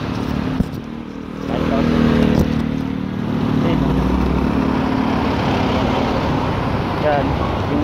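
A vlogger's motorcycle runs near Twin Lakes, a steady engine drone that grows louder after the first second and holds under people talking.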